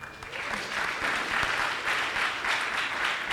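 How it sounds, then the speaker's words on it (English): An audience at a capitalism-focused conference event gives a steady round of applause, a dense wash of clapping lasting throughout. "So give yourselves a big round of applause."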